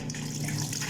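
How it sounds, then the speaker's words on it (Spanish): Water runs steadily into a washing machine drum during cleaning, a continuous close gushing flow like a tap filling a tub, with no talking. "Primero le echo agua."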